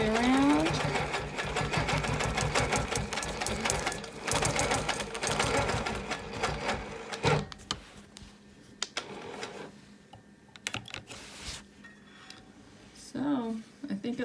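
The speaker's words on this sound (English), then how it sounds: "So let's stitch it all the way around." Domestic sewing machine stitching a wholecloth quilt, a rapid steady needle chatter running for several seconds, then slowing into short stop-start bursts with a voice speaking at moments.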